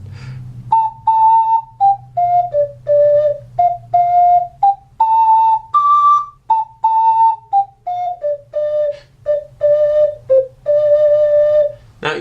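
Canoe Song, a minor pentatonic tune, played on a 6-hole ocarina: a clear, pure whistling melody of short and held notes in a steady rhythm, close and loud with a low hum underneath and no talking.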